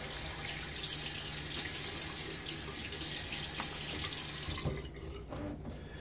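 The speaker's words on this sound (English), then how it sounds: "Let me get my face splashed here." Water runs steadily from a bathroom tap into a sink as a face is splashed before a shave, a continuous close hiss that cuts off near the end, leaving a few quieter drips and handling sounds.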